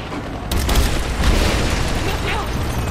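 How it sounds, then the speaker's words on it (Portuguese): A fireball explosion close to a helicopter in Rise of the Tomb Raider, a loud boom that starts abruptly and rumbles on steadily with a dense roar. "Se eu acertar uma bola de fogo quando ela estiver perto do helicóptero, a explosão pode atingi-lo"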